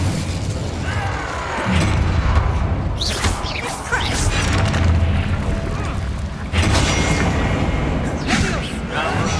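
Incendio fire spell cast during combat in the video game Hogwarts Legacy, heard as whooshing, crackling bursts and booms over a dense, continuous layer of battle effects and music, with a voice speaking in the mix.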